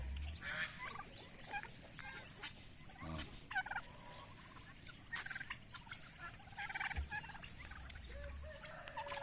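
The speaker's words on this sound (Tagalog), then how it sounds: "dalawa na yung lalaki kong pabo" Male turkeys gobble in bursts from a short distance, with scattered clucks and outdoor background noise throughout.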